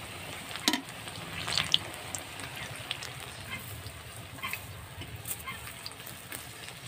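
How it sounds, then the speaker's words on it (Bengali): Kakrol (spiny gourd) fritters frying in oil give a low, steady sizzle with a few sharper crackles and spatter pops near the start, quiet and continuous with no talking. "একটু লাল লাল করে ভাজবো।"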